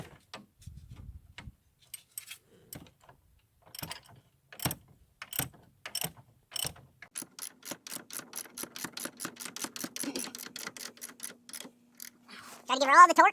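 Metallic clicking from a wrench tightening a bolt on the rear suspension of a 2006-10 Ford E-series van, first in sparse separate clicks, then in quickening runs of close, crisp ticks.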